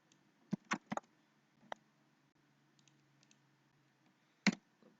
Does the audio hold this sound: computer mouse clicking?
yes